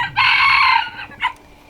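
A rooster crows loudly in a backyard chicken yard, one long bright call followed by a short clucking note from the flock, close and clear with no voices.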